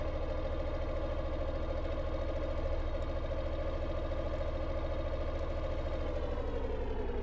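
Several ship engines idle steadily in an engine room in the Stormworks game, a continuous low mechanical drone with a faint clatter that stays even and unbroken, with no talk over it.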